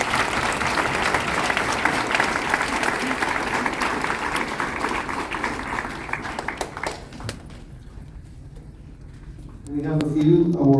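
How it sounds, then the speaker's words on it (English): Audience applause at an 8th grade school concert, a dense wash of clapping from a crowd that fades out toward the end, followed by a voice speaking over a sound system. "if we give them another round of applause"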